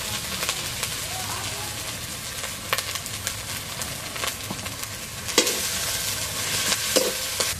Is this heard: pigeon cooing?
no